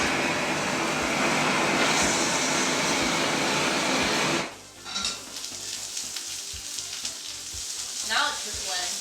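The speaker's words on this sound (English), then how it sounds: "I'm gonna torch up some of this chopped beef. With the peppers and the onions." Chopped beef with peppers and onions hits a hot pan for a steady, loud broadband sizzle that cuts off sharply midway, leaving a quieter, crackling fry with faint scraping and stirring.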